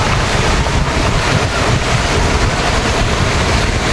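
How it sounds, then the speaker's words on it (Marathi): Sea waves roll and wash in a loud, constant roar close by, mixed with heavy wind buffeting the microphone. "तिथं जरा लाट आहे"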